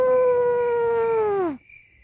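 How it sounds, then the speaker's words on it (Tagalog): A dog lets out one long, loud howl at night, holding a steady tone for about a second and a half before it bends downward and cuts off into near silence. "Nakapangingilabot na alalong ng aso"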